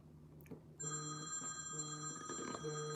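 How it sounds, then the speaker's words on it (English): A telephone bell rings in steady, sustained bursts, loud and close, filling most of the short stretch with no talking over it. "Phone is ringing."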